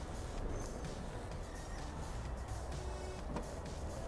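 Power liftgate of a 2011 Cadillac Escalade closing, a continuous electric motor whir with a mechanical hum, ending in a brief thunk as it latches.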